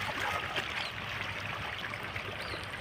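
Borewell water pours into a farm field in a soft, continuous gushing flow, steady and fairly faint, with no talk.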